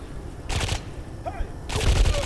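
Gunfire in the video game IGI 1 on a military airbase level: two loud, close bursts of shots separated by a short pause, with no one talking over them.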